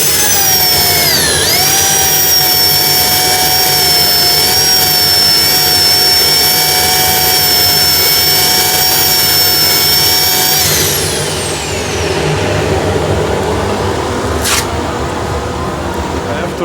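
Turned wood spinning on a lathe while being sanded with 180-grit sandpaper: a loud, steady whine with a broad hiss that holds for about ten seconds, then the tone drops away as a rougher rushing noise continues.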